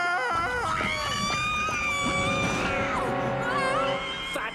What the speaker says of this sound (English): Hark, the princess, she screams from the tower.